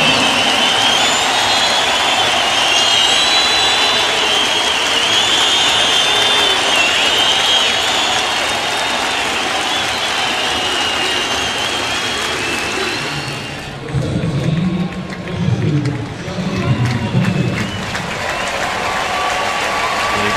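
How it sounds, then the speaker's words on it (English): A St. Louis baseball crowd gives Miguel Cabrera a long round of applause and cheering that fills the stadium, then fades near the end as a broadcaster's voice comes in. "Here comes Miguel Cabrera. Listen to the round of applause."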